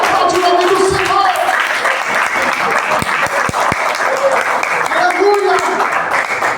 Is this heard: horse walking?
no